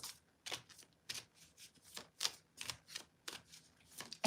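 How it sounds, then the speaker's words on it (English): Playing cards being shuffled by hand, a series of quick crisp riffling bursts repeating in an uneven rhythm, close and fairly quiet, with no talking. "That's how I shuffle."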